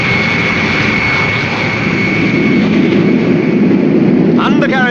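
An aircraft from a 1960 film takes off, its engines roaring loud and steady throughout while the undercarriage retracts, and a voice speaks briefly near the end.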